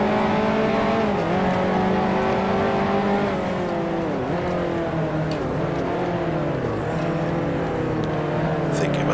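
A 1955 Formula One race car at the Argentine Grand Prix in the video game Grand Prix Legends, its engine droning loud and close throughout with repeated pitch dips at gear changes and rising climbs as it accelerates out of slow corners.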